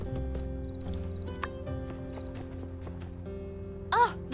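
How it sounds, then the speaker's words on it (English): Clip-clop hoofbeats of a goat mount ridden in the game My Time at Sandrock, a steady trotting rhythm close up over soft game music, with a brief bleat-like cry near the end. "Crazy lady on a goat coming through."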